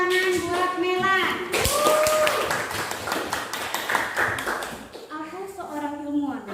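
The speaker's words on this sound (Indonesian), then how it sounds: "Tepuk tangan buat Melan." A classroom of students clapping for a classmate named Melan, a brisk burst of many hands tapping in the middle, with a teacher speaking before and after the applause.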